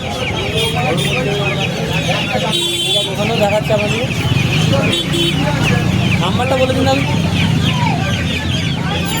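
Chickens cluck and a rooster crows at a busy hen market, the calls loud and continuous under steady chatter from traders, with occasional traffic noise behind.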